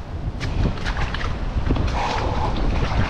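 A wooden boat moves across water during Typhoon Carina in the Philippines, with sloshing splashes and wind buffeting the microphone, choppy and close.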